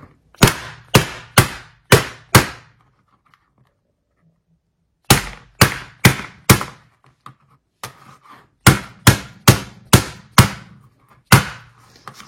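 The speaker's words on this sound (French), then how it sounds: "Si vous avez un marteau à viande, c'est super. Moi, je vais utiliser cet article donc, pour taper dessus." Beef is beaten with a kitchen utensil used in place of a meat mallet. Three bursts of four to five sharp, hard thuds come in quick rhythm, loud and close, separated by short pauses.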